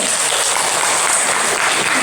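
An audience at a gathering honouring community figures claps together, a steady, even wall of applause filling the whole moment without a voice on top.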